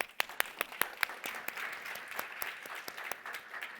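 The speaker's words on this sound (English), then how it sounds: "So big applause to our speakers." An audience applauds speakers at a European innovation procurement assembly, with a few sharp, distinct claps that thicken into a steady wash of clapping.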